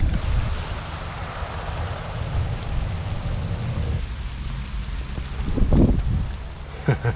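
Steady rain falls during surf fishing on an open shore, a dense continuous hiss with a louder rumbling burst near the end, no voices.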